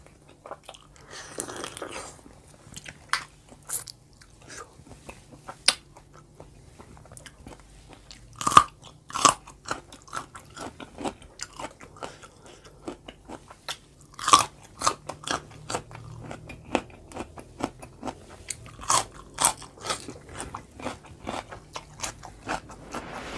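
Biting and chewing mantis shrimp pickled in fish sauce, close and crisp, with repeated crunches and wet chewing in an irregular rhythm, no talk.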